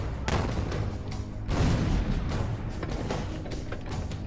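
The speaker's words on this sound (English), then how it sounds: "The earth shook as the artillery pounded the Confederates." Artillery fire during a Civil War siege reenactment at Vicksburg, with heavy booming cannon blasts rolling into one another, loud and dense, rumbling throughout with deep low-end thuds and no voices.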